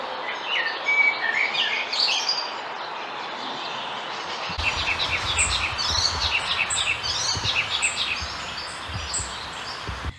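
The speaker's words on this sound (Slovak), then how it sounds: "takýto vtáči orchester počujeme v čase hniezdenia skoro ráno" A dense chorus of birdsong fills a city park early in the morning during the nesting season, with many overlapping chirps and trills. A low rumble of distant traffic joins the chorus halfway through.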